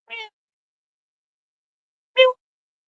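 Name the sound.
cat meowing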